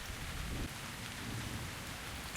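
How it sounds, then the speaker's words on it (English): Steady rain falling in the video game World of Warcraft, a dense continuous hiss with a low rumbling undertone, even and moderately loud with no voices. "But I do very much like the rain again."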